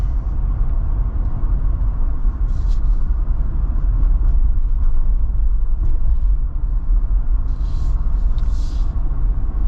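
A 2025 Jeep Wrangler Rubicon with solid axles drives over bumps, heard from inside the cabin as a steady deep road rumble with occasional faint knocks and rattles from the suspension, continuous and without talk.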